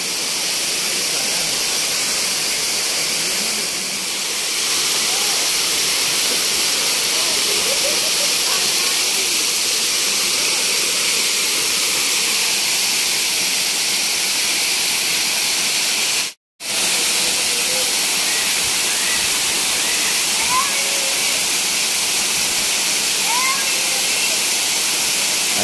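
Steady broadband roar of water plunging at a waterfall, continuous and fairly loud for the whole stretch apart from one brief dropout, with no talking over it.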